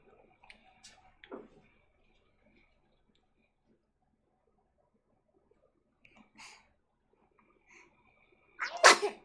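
A single sharp sneeze bursts out near the end, preceded by a few faint clicks and small rustling sounds in an otherwise quiet room.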